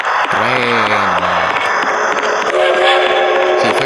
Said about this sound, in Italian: Dove è il treno? Treno, qua.